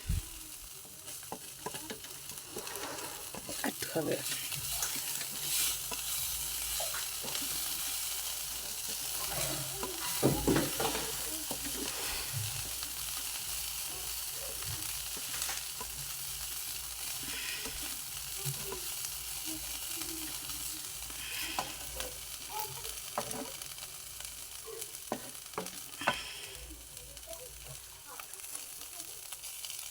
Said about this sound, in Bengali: এবার আমি এটাকে ভালোভাবে ভাজা ভাজা করব।